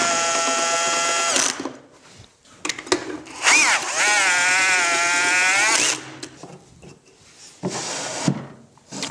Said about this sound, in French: pour visser les crochets, un autre petit crochet ouvert.